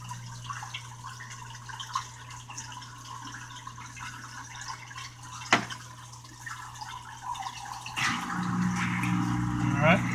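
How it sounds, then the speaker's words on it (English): The drain pump of a Whirlpool washing machine hums steadily as it pumps out water, with faint trickling and a sharp click partway through, rising to a louder gurgling flow near the end while someone talks. "Drain pump actuated until empty. Go ahead and let that run."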